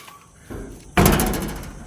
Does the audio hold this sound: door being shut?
yes